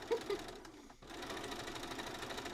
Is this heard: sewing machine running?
yes